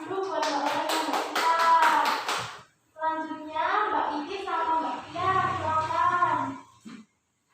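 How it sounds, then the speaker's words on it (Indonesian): Hand clapping from students in a primary school classroom, brisk overlapping claps mixed with children's voices and an adult speaking, in two bursts separated by a short pause. "Tepuk tangan dulu buat Mbak Aura sama Mbak Tita."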